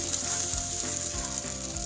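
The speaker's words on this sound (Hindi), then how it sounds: "पहले चावल डाल देने हैं।" Boiled rice going into a hot pot for Sindhi biryani gives a steady sizzling, frying hiss with a few soft thumps as the grains drop in, close and alone.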